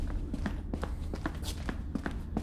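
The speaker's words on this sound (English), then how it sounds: "I've got footsteps. Really shuffly footsteps." Shuffling footsteps in the video game Doctor Who: Edge of Reality, a string of soft, dragging steps at an uneven pace, close and moderately quiet over a low ambient hum.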